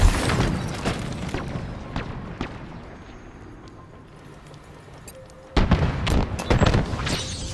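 Loud booming blasts and bursts of gunfire from Halo Infinite team deathmatch, dense at first, fading to a quieter lull, then erupting again near the end.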